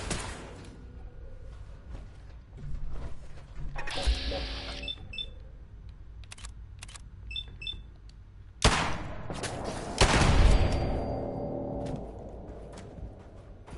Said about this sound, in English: And they're using the turrets against me.